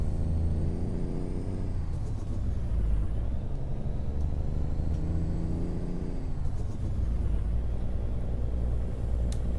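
Truck engine in American Truck Simulator, a deep, steady low rumble while driving, with gentle swells in pitch as the engine revs and shifts, loud and continuous with no talking.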